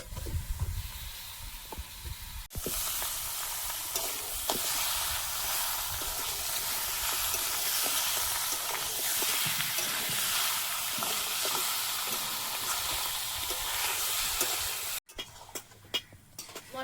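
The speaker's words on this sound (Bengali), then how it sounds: "ভাজার সঙ্গে মাংস কিছুক্ষণ কষিয়ে নিয়েছি" Meat frying in a pan with turmeric and Kashmiri chilli powder, a steady loud hiss and sizzle running almost continuously, with brief quieter stirring moments at the start and end.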